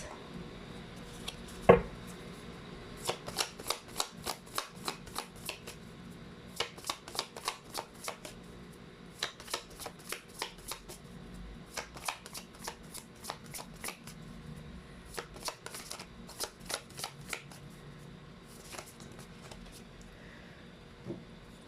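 Tarot and oracle cards being riffled and shuffled by hand, after one sharp tap at the start, with rapid bursts of papery flicks repeating in steady rounds, close and fairly quiet, with no talking.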